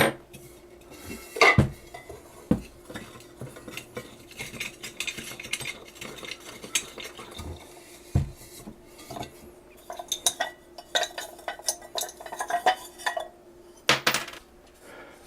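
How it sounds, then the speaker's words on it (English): Terracotta pots being handled and set against one another, sharp clinks and clunks scattered over about fifteen seconds, close by, with a few louder knocks near the start and end and no talk. "what you're going to need is several terracotta pots"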